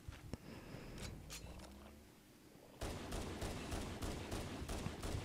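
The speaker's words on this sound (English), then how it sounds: "You can see I'm shooting the people up on the ledge with my Magnum right there." Magnum pistol fire in the Halo CE video game: a quiet stretch with a couple of sharp cracks, then a sudden burst of rapid, closely spaced shots that keeps going, punchy and steady.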